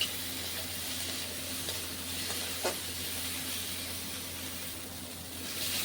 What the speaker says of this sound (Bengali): খুব ভালো করে রসুনটা ভাজতে হয়।